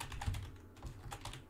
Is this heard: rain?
no